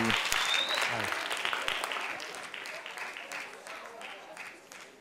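Warm audience applause at a youth science seminar, steady clapping from a crowd that slowly tapers over five seconds, with a voice briefly heard at the start.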